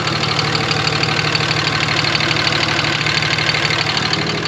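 A car engine idles steadily after an injector misfire repair, with a constant low rumble and a fine rhythmic ticking, close and loud, holding even throughout with no speech.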